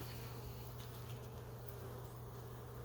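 Honey bees buzzing during an early spring hive inspection, a faint continuous hum close by with a few brief louder buzzes of individual bees passing.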